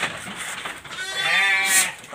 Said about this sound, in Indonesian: Ini Dorper F1 jantan Blackhead super usia juga 6 bulan